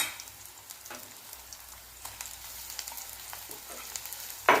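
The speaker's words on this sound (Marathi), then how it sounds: "आता हे वाटण टाकूया याच्यामध्ये" Ground masala paste hits frying onion in a pan, giving a soft, steady sizzle with light crackles and a sharper clatter at the very end.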